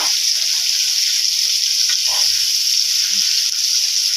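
Fish sizzling in hot oil in a pan, a steady close hiss of frying that runs without pause, with a few faint clinks and stirring sounds underneath.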